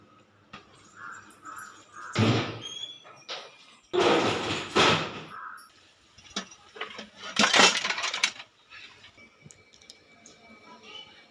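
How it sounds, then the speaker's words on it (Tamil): Folded clothes are put away in a cupboard at home: the doors are handled with a few loud rattling, scraping bursts separated by quiet pauses, plus soft thuds and small clanks, close by. "துணியை மடித்தாச்சு, எடுத்துன்னு போயிட்டு பீரோவில் வச்சிட போகிறேன்."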